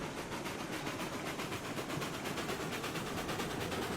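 A train locomotive runs steadily in the RailRoads Online video game, giving a continuous, fairly loud, dense rhythmic chugging and rumble with no voices.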